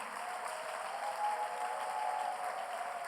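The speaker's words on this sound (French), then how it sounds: "Est-ce qu'on peut les applaudir?" Guests from Barumbu receive applause from an audience at a training gathering in Kinshasa, a soft, even wash of clapping heard from some distance, with no voices on top.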